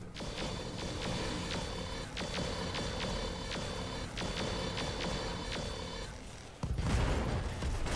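Mech weapons unload in the Roguetech game, a repeating volley of rapid mechanical shots and clanks in steady bursts, ending in a heavier boom and rumble.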